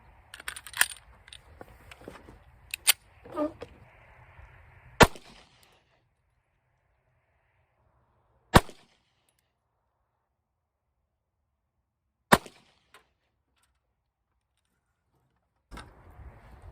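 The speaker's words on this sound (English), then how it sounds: "now we're going to be shooting these semi-wad cutters" Handgun shots fire semi-wadcutter bullets as sharp, loud single cracks spaced several seconds apart, with quieter handling clatter between the first few and near-silence later.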